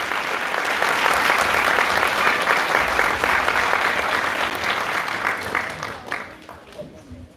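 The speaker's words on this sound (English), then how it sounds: "How about a round of applause" A large crowd applauds a choir loudly and steadily, the clapping slowly thinning and fading out at the end.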